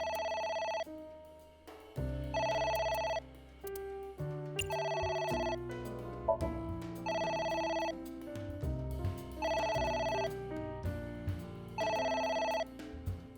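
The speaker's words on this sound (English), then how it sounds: "It's ringing again." Telephone ringing in the video game AI: The Somnium Files, six evenly spaced bursts of bright ringing over a steady low music bed, clear and close.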